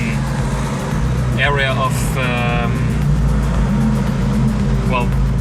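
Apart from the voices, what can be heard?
car driving through tunnel in Monaco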